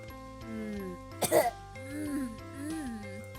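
A character in the Purrfect Date game coughs and clears the throat after choking on something lodged there, a short burst of rough coughs between quieter murmurs.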